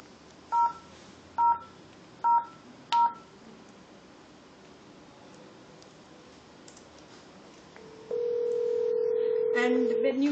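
Four short DTMF keypad beeps as a number is dialed to connect to another phone, followed by a steady tone on the line, with faint background noise throughout.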